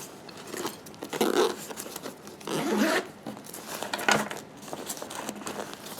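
A zipper on a tactical MOLLE vehicle seat organizer is pulled open in several quick rasping strokes, close by and fairly clear, with faint rustling between the pulls.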